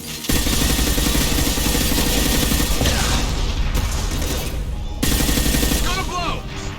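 Loud sustained gunfire in the video game Mass Effect 2, with bursts of automatic fire and heavy shots nearly continuous for several seconds, a brief break, then more shooting over combat noise.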